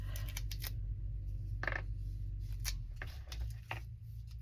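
Washi tape gets cut and pressed onto a journal page, producing a few short, crisp snips and rustling taps close by over a low background hum.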